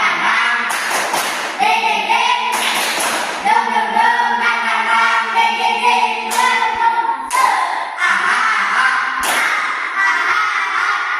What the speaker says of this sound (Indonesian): Bapak punya satu tepukan yaitu tepuk semangat. Coba tepuk semangat.